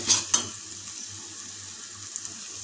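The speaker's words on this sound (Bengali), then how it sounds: "তাই এবার খুন্তিতে কিছুক্ষণ কষিয়ে নেব" Spices stir-fried in a pan over a low-to-medium gas flame, a spatula scraping through them with a couple of sharp scrapes up front, then a soft, steady sizzle underneath, fairly quiet and close.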